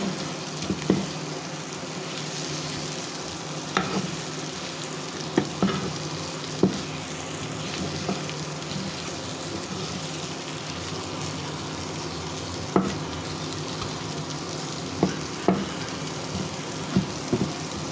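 Shrimp and potatoes fry in a pan with turmeric, chili powder, garam masala and ginger-garlic paste, giving a steady close sizzle with occasional sharp scrapes and stirring clicks, no voices.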